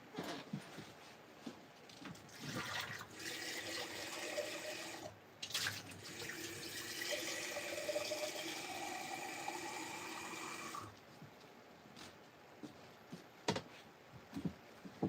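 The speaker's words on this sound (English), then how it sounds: "I'm going to change my water just quickly because it is filthy" Water pours from a tap into a sink to replace dirty paint-rinse water, a steady running stream for about ten seconds that then stops, leaving faint clicks and handling noises.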